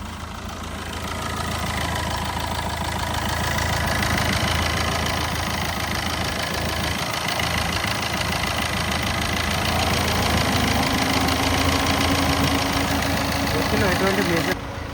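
A 2012 Tata Indica Vista VX ABS diesel engine idles with a steady, even rumble throughout, while someone talks over it close by.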